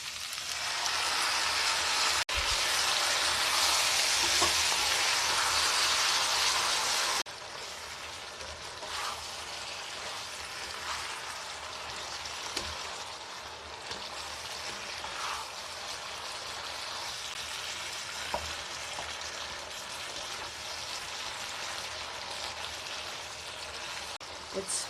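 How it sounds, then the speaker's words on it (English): Marinated baby octopus stir-frying with vegetables in a hot pan, a steady broadband sizzle throughout that drops slightly in loudness after a few seconds and continues evenly to the end. "After put octopus, stir fry around 2 to 3 minutes."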